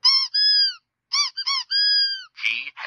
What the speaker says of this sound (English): they squeak, as the claw pulls up both Woody and Buzz